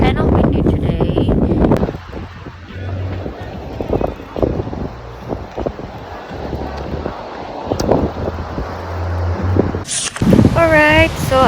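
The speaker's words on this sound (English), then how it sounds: "It's kind of windy today." Gusty wind on a beach buffets the microphone in a loud, rumbling roar, with brief bits of background noise and a short higher tone near the end.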